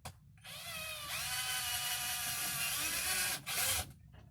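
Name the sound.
drill making pilot holes for screws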